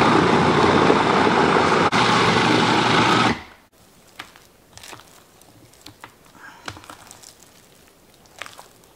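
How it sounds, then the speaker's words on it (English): A food processor motor runs loud and steady with a dense whir while churning ground beef with 15% fat into a sticky kebab mix, then cuts off abruptly, leaving faint kitchen clatter and small knocks. "Doing it in the food processor, it gives me that stickiness I need to make it stay on a skewer."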